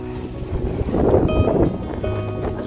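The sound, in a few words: strong wind blowing over farm field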